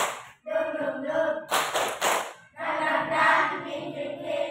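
A group does a rhythmic 'tepuk semangat' clapping ice-breaker at an academic coaching session, with a short burst of claps between stretches of chanted voices at close range.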